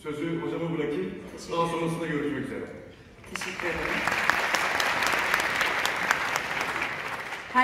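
Audience in a hall applauding as a speaker is welcomed on stage at a digital media talk in Bursa; an announcer speaks first, then steady, fairly loud clapping from many hands fills the rest.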